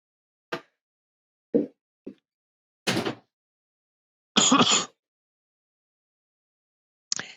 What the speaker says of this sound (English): Hold on, I'm going to close the door.